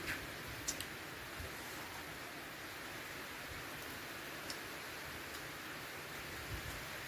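Rain falls as a faint, steady hiss at an outdoor meal, with a few scattered ticks and drips from nearby surfaces.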